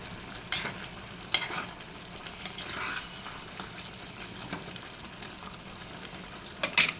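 A spoon stirs tomato egg curry in a frying pan, soft scraping strokes over a steady low sizzle, with a few sharp clinks against the pan.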